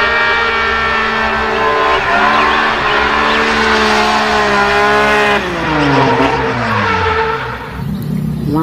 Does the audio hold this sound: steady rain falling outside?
no